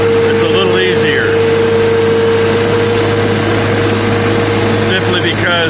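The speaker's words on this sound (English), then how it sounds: "Nice thing about using the skid steer, it's a little easier." A skid steer loader engine runs steadily while cleaning up around a big baler on a farm, a loud constant drone with a steady hum and faint higher whines.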